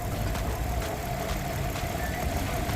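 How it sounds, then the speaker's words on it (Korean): A Renault Samsung SM7 with a 2.3-litre V6 gasoline engine idles steadily, a smooth, even hum with a constant low rumble and no other sounds. "자 엔진 사운드 이렇게 좋습니다"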